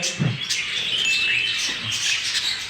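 Young budgerigars chirping in an aviary, a busy overlapping chatter of thin high tweets and warbles, steady and fairly close, with no talk.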